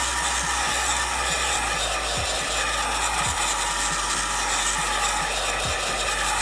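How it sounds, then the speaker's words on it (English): A heat gun or hair dryer blows a steady broadband whoosh while warming the adhesive backing on carbon fiber interior trim for a 2016-24 Camaro, with faint clicks and handling noises underneath and no talk. "you just want to get your heat gun, hair dryer, or lighter. Just simply add some heat to it."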